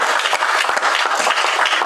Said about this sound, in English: can we have a round of applause for all of the family and friends?